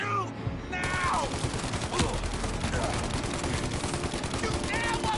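Sustained gunfire from a shootout in Mafia Definitive Edition, with rapid overlapping shots and ricochet whines continuing steadily as a voice shouts over the exchange.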